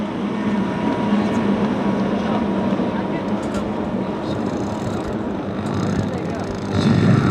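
Racing personal watercraft at a Great Lakes Watercross event at Harbor Beach drone steadily at mid distance, a dense continuous engine roar that swells briefly near the end, with an announcer's voice talking over it.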